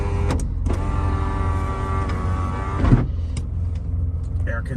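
Electric sunroof of a 1997 Porsche 911 Turbo (993) runs with a steady motor whine for about three seconds, then stops with a soft thunk. The cabin is quiet apart from this.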